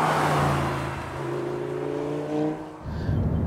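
A Mk1 Lamborghini Gallardo Superleggera with a manual gearbox and rear-wheel drive idles as it warms up, a steady, close, throaty engine drone that wavers slightly before settling near the end.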